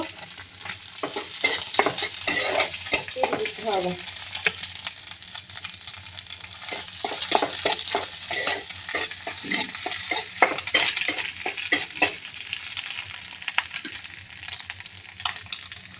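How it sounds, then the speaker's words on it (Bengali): Chopped onion hits a hot pan, followed by sizzling and repeated stirring, with metallic scrapes and clinks of a utensil against the pan throughout; close and fairly loud, with no voices. "তারপরে এখানে এই যে পেঁয়াজ কুচি দিয়ে দিব"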